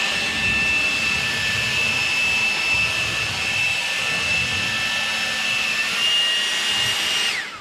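A PATOOLIO 5-speed 20V electric leaf blower, rated 630 CFM and 160 MPH, runs steadily with a high whining motor tone and rushing air, close and loud, cutting off at the end.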